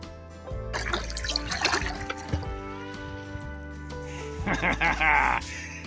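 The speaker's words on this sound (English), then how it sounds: "Beaver is going to splash at me." A beaver slaps and splashes the water near a canoe on a fall lake in Canada, with a burst of splashing toward the end and some voice and background sounds earlier.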